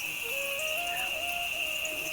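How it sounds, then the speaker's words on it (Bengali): Crickets chirping outdoors beside a village kitchen, a steady high-pitched continuous drone held at an even level throughout, with a faint thin tonal warble drifting beneath it. "ঝিঝি পোকার ডাক"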